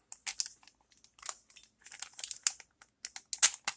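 A knife slicing open plastic packaging up close, quiet bursts of crinkling and scraping in short irregular strokes with brief pauses between.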